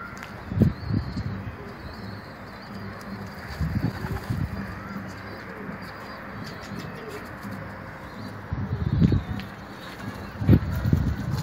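Several pigeons coo softly in low, throaty bursts against a rustling background, with a few faint chirps, close by in an enclosed space.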